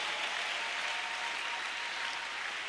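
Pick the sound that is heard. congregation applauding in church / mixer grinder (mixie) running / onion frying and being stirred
congregation applauding in church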